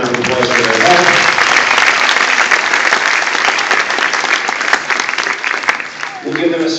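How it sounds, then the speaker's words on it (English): A live show audience gives loud, sustained applause for the helpers who ran the food and tickets. The clapping is thick and even throughout, and a voice is heard briefly at the start and again at the end. "Please give them a huge round of applause for their help."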